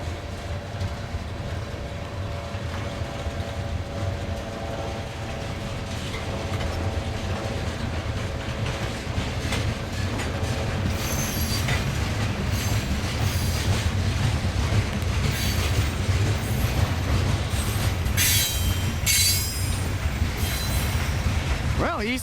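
An eastbound CN freight train, a green ethanol train in Cedar Falls, Iowa, rumbles steadily past close by. Rail cars clatter and the wheels screech in high bursts near the end.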